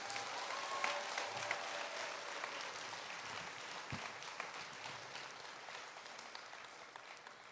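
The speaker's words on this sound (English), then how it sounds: "Can we have another round of applause for Rylee?" A large conference audience gives a sustained round of applause for Rylee, a Four Diamonds childhood cancer survivor, at the 2019 PASC conference; dense clapping stays steady and full for the whole stretch, with no talking.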